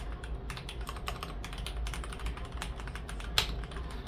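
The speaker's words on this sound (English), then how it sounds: "If I was typing away." Steady, rapid typing on an NZXT Function MiniTKL mechanical keyboard with custom switches and keycaps, soft, muted clacks, close up and fairly quiet, with one sharper keystroke near the end.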